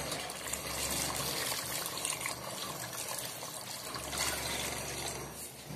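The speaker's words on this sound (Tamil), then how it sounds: "இந்த தண்ணி என்ன பண்ண போறேன்னா இப்ப வந்து ஊத்த போறேன்." Water poured into a cooking pot for biryani, a steady gushing stream running for several seconds, close and fairly quiet, with no talking.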